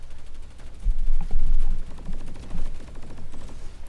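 Sustained crossfire in a shooter video game, rapid overlapping gunshots rattling steadily throughout at moderate loudness, swelling in a few denser bursts, with no talk over it.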